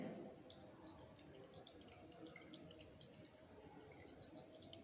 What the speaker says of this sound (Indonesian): Nih sudah netes-netes dia, cuma belum banyak.